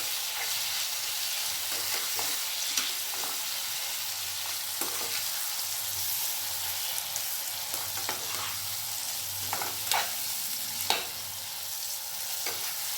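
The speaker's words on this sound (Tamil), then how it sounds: "அதை எடுத்து இதில் போடணும் அதை நல்லா எண்ணெயில் வதக்கிடணும்" Pieces of citron sizzling steadily in hot oil with ginger and garlic for a pickle, a continuous close frying hiss with occasional stirring scrapes and clicks from a spoon in the pan.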